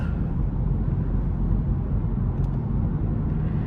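Kia Stinger 2.5T engine droning steadily from inside the cabin while paddle shifters change gears, a loud continuous low rumble with no distinct shift breaks standing out.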